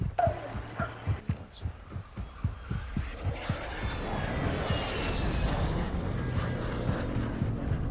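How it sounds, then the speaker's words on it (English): A UAV recon aircraft in a video game passes overhead as a steady, swelling broadband roar. It builds after a few seconds of low rumbling and thumping and then holds loud to the end, with no voices. "Requesting recon flyover!"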